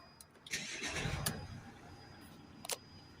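A VW Crafter 2.0 TDI diesel van engine cranks and fires up, a short starter whir rising into a brief rumble, close by, with a couple of sharp clicks around it.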